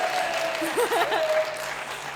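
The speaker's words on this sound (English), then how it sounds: "let's have a round of applause after each name" An audience at a literature festival poetry event gives a steady round of applause, with a voice speaking briefly over the clapping.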